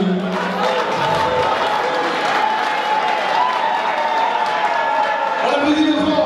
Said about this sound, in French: On applaudit le grand mesdames et messieurs.